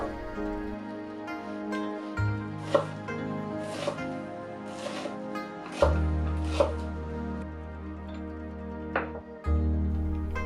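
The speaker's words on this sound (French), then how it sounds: "Terminons avec les oignons que l'on va ciseler, c'est-à-dire couper en petits cubes." Knife chopping onion into small cubes on a board, a handful of distinct crisp cuts spaced irregularly over soft background music, no talk.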